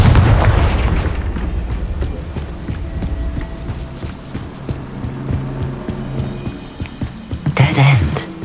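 A Confringo fire spell blast in the Hogwarts Legacy video game bursts out loudly near the end, over a busy bed of in-game music and ambient effects.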